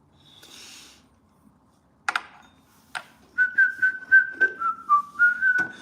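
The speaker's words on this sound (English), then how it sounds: "if you just whistle it or hum it, it sounds like you're singing" Someone whistles a short melodic tune, steady rising and falling notes, after a few sharp taps and clicks near the start.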